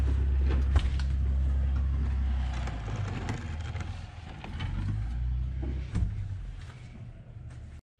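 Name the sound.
snow plow truck passing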